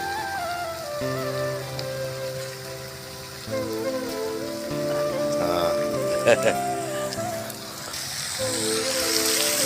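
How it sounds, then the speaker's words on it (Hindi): Heavy rain pours down steadily across a plant area, a continuous hiss of drops on surfaces lasting throughout, with people talking over it and some tonal background sounds. "पानी बढ़िया पड़ी पूरा बरसात हो बाबा"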